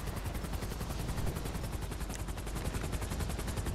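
Rapid automatic gunfire in GTA 5 aimed at a US Army helicopter, a dense, steady stream of shots that stays loud and continuous throughout, with no voices.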